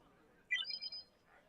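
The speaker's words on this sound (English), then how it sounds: "Is that your phone or something?" A short, faint electronic ringtone chirp from a phone, a single brief warbling burst over quiet background during a Dragon Age: Inquisition session.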